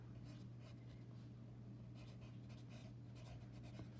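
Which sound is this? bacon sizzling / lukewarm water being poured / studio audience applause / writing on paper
writing on paper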